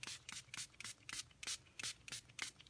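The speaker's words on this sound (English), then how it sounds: "So I'm going to just give this a test spritz into my towel, and then I'm going to spray this." A spray bottle is spritzed into a towel in a series of short, quiet hissing bursts, about ten evenly spaced pumps close by with no speech.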